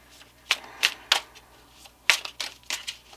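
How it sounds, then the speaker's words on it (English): Tarot cards being shuffled and drawn from the deck, heard as a handful of quick papery riffles and slaps spaced irregularly, close and fairly soft, with no talking. "So let's pull some more clarifying cards for them because we have some time here."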